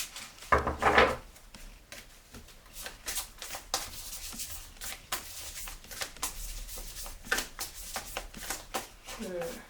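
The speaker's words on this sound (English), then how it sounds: "shuffling can be an issue, especially if you shuffle the way I do" Large tarot cards shuffled by hand in repeated riffling and sliding bursts, close up, with a person talking between them.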